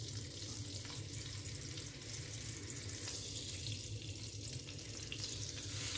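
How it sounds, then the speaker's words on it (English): Rib eye steak searing at the edges in a hot cast iron skillet, a steady broadband hiss and crackle that holds even and fairly close for the whole stretch, swelling slightly near the end, with no talk. "What I'm going to do now is I'm going to go ahead and I'm going to sear the edges of the steak."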